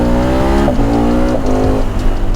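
A KTM 1290 Super Adventure motorcycle engine revs up loudly and close, its pitch climbing through several quick rises with brief dips between them, heard alone without talk.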